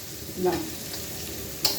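Chicken curry stirred in a pan, a low steady sizzle with a couple of brief scraping strokes and a short spoken word.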